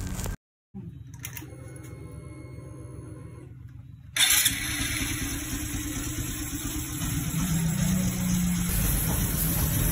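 A fuel-injected motorcycle engine, just repaired, cranks briefly, then catches around the midpoint and settles into a steady, close idle.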